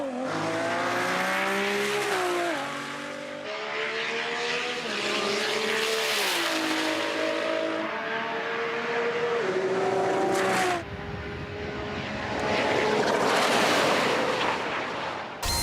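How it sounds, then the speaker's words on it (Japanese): A Nissan GT-R R35 with a VR38 engine, NOS and over 1000 hp at full acceleration: loud, rising engine howl broken by repeated sharp gear changes with popping bangs, ending in a rushing wind-like roar at very high speed. "1000馬力を優に越す 35GTR のフル加速を見よ。"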